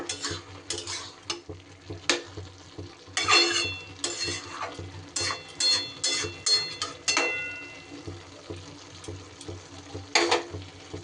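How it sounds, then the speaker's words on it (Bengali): A spatula stirs and turns gourd pieces in a pan, with a run of scraping, clinking strokes in an irregular rhythm, some close together and some spaced apart, over a low steady background hum. "এইবার একটু সুন্দর করে ওপর নিচ করে দেব লাউটা"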